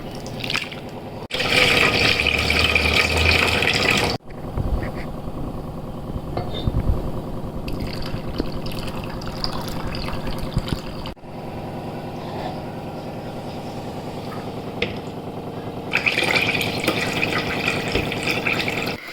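Raw sago pearls being washed in a bowl of water: bursts of running, splashing water alternate with softer swishing and dripping, heard close up.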